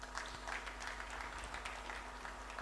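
Faint, distant audience applause at an African leadership celebration honoring Honorable D. Dawkins Hagler, a continuous hiss of many hands clapping with a low steady hum underneath.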